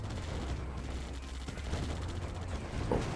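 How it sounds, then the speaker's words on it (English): Sniper gunfire in a strategy video game, a dense run of sharp gunshots and bursts of fire with rumbling booms, steady and fairly loud throughout, heard alone without talk. "Miners are getting sniped. Nice snipe at that miner."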